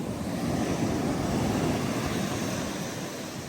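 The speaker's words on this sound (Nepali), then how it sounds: "ल फेरि वेभ आउँदैछ" Ocean waves washing in at a beach, a steady, full rushing surf with some wind noise buffeting the microphone, swelling slightly and then easing, with no talk.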